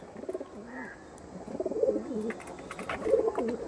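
An Andhra red-necked pigeon coos close by in soft, repeated rolling phrases with short pauses between them, against a quiet background.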